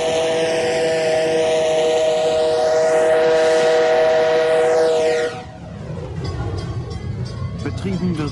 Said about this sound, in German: Vom Festgelände aus fährt noch ein historischer Dampfzug.